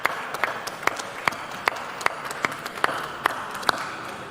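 Scattered, sparse clapping greets the GT 500 qualifying race winners as they come on stage at a sim racing expo, a handful of distinct sharp claps at a slow irregular pace over a quiet room.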